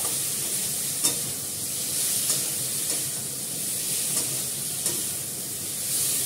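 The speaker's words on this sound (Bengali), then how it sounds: "দেখো খুব সুন্দর করে কষে গেছে" Curry frying in a pan while being stirred, a steady hissing sizzle broken by a few sharp clicks of the spoon striking the pan roughly once a second.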